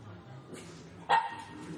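A pet dog gives a single short bark, fairly close, over a quiet indoor room tone in a campus forum setting.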